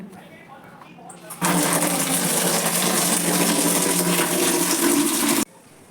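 Water rushes in a loud, steady roar for about four seconds while clothes are washed at home, starting and cutting off abruptly, with quieter rustling before and after.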